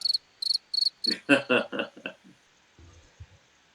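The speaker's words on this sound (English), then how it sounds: "Instead, there was crickets." Crickets chirp in a sound-effect burst of four sharp, evenly spaced high trills. Short clipped voice fragments follow, then a low quiet murmur.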